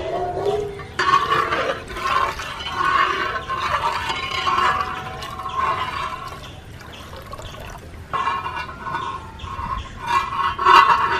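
Second coconut milk, thinned with three cups of water, is poured into a Kerala-style rice halwa mixture, giving a steady splashing, trickling pour that runs on and off for several seconds, close and fairly loud.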